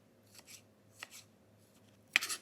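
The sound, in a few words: chopping vegetables with a knife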